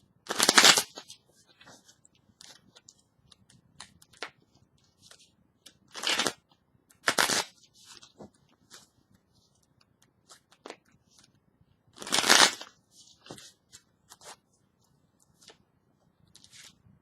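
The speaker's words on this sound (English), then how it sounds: "Let me shuffle a little bit more." Tarot cards are shuffled in several quick, crisp riffling bursts separated by quiet gaps, with soft handling sounds in between, close and clear.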